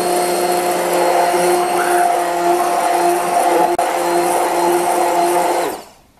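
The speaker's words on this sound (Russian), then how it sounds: "Сейчас я продолжаю взбивать и добавляю сливки." Electric mixer whirs loudly and steadily while whisking eggs and sugar for crème brûlée as cream is poured in, holding a constant hum before winding down and stopping at the end.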